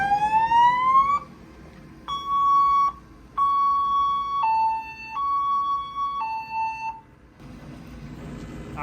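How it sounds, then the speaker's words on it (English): Siren on a farm tractor setup, a Fendt 936, being played with: a rising wail, then several steady two-tone blasts switching pitch in a stuttering pattern, loud and close over low engine rumble, ending as noise returns. "playing with his siren"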